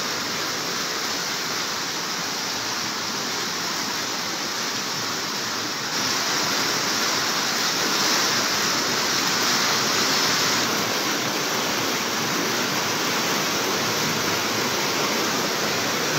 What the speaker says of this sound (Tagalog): Nagsimula po yung baha, alas 9 ng umaga. Hanggang ngayon, lalong lumalakas.